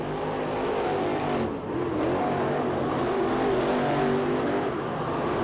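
Race cars at the 2021 Winter Nationals heat race roar continuously nearby, engines droning and revving steadily with a brief dip in the middle as the pack laps the track.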